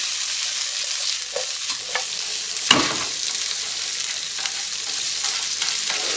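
Corned beef with onion and cabbage stir-frying in a pan over medium heat, a steady sizzle throughout with a few brief scrapes and one sharp clatter near the middle.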